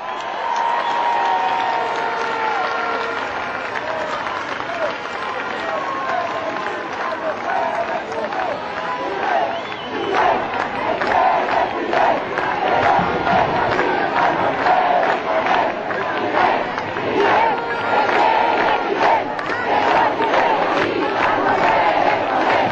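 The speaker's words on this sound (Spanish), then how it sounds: "Desde aquí le mandamos un aplauso a Fidel y a Raúl y al pueblo cubano" A large crowd at a political rally below a balcony applauds and cheers loudly, a continuous roar of clapping and shouts that builds toward the end while someone speaks over it.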